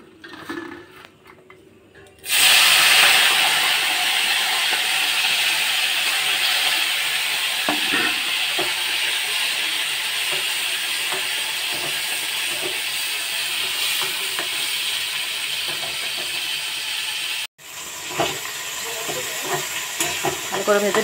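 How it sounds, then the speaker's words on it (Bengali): Dried shrimp fry in a hot kadai with turmeric powder and salt, a loud continuous sizzle that starts abruptly and holds steady with occasional stirring scrapes, cutting off briefly near the end before resuming more faintly. "চিংড়ি শুটকিটা ভেজে নেব হলুদ গুঁড়ো নুন দিয়ে।"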